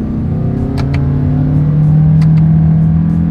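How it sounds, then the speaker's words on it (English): A 2025 Toyota Crown Signia hybrid SUV accelerating up to highway speed in manual shift mode, loud steady engine drone rising in pitch from inside the cabin, with a few faint clicks. "quickly we can get our new 2025 Toyota Crown Signia here up to speed"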